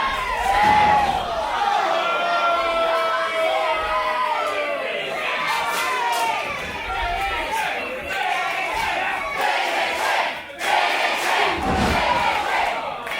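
A live wrestling crowd at a Wrestleforce International title match roars and chants continuously, a dense wall of voices with rising shouts and sharp bursts throughout.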